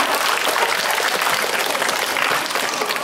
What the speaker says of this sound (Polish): Ogromny brawa.